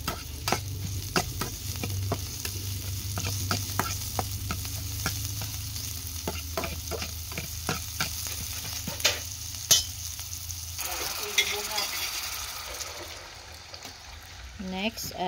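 Food sizzling steadily in oil in a pan while a utensil stirs it with frequent clinks and scrapes, close up, and the frying grows softer toward the end.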